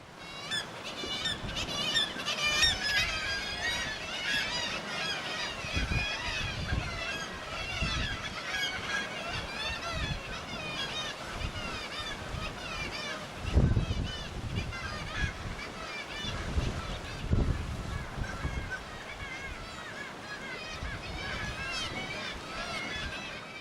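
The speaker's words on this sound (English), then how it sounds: "We came across a large colony of kittiwakes nesting on the cliffs." A large colony of kittiwakes calls from nesting cliffs in Iceland, a continuous chorus of overlapping raucous cries at moderate distance, with wind rumble and low bursts of handling noise.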